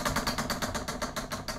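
An 18-segment, floor-standing, colourful 68 cm prize wheel of fortune spun gently by hand, giving a steady run of rapid, evenly spaced clicks close by as the pointer ticks past the pegs.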